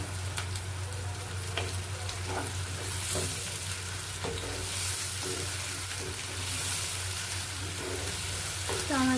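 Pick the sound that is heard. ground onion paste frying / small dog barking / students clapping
ground onion paste frying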